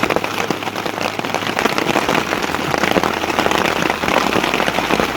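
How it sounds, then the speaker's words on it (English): Hail and heavy rain fall outdoors at Blue Lake, a loud, dense, continuous patter of ice and drops striking surfaces nearby, with no voices. "We've got hail!"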